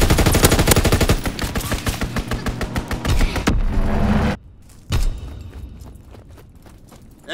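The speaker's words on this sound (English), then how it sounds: "Enemy strafing run inbound." Repeated machine-gun bursts from an enemy aircraft strafing run in Call of Duty WWII Team Deathmatch on the Carentan Winter map, loud rapid rattling for several seconds, then a sharp boom and quieter scattered shots.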